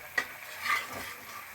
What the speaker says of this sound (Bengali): এই ফুটছে দেখুন এবার আমি মাছ দিয়ে দিচ্ছি